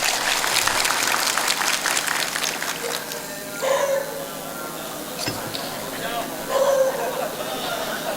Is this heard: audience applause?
yes